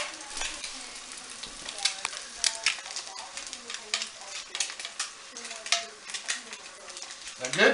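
An egg frying in a pan for a biscuits and sausage gravy breakfast, a close, crackling sizzle with pops and clicks throughout, with a voice speaking at times.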